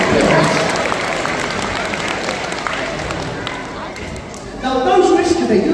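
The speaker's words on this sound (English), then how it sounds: "Give Roger a big round of applause." Crowd applause for Roger the sea lion at a sea lion show, loud continuous clapping throughout, with a voice coming in over it near the end.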